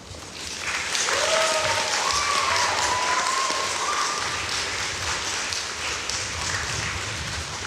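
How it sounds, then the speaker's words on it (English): Graduating class at a Simon Fraser University fall convocation ceremony applauds their families and faculty, a broad, sustained roar of many hands clapping in a large hall that swells after the first second and holds steady. "invite the members of the graduating class to reciprocate by applauding your family, friends, faculty and staff"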